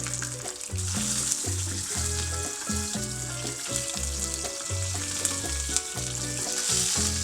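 Wagyu picanha searing fat-cap down in a hot pan, a loud continuous crackling sizzle with irregular pops and spits, steady throughout with no voices.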